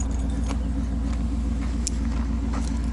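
A 1990 GMC truck's swapped 350 V8 idles steadily after its first fire, a close, loud, even rumble with a Cummins exhaust tip and no voices over it.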